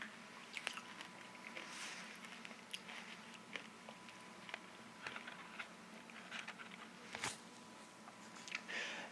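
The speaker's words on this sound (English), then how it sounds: "Chewing on a cough drop" Someone chews a cough drop close to a microphone, making irregular wet crunches and squishy clicks, with a few sharper cracks scattered over a quiet background.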